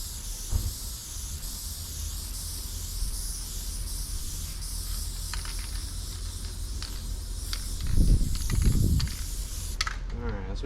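A can of spray glue hisses steadily throughout, close and continuous, during a camper interior makeover, with a few mechanical clicks and a low thump near the end.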